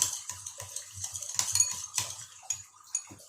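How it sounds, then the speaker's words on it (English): Cucumber salad with peanut jam and light soy sauce being mixed in a bowl, with repeated clinking and scraping of utensils against the dish in a quick, irregular rhythm, close and fairly quiet. "then continue to mix them together."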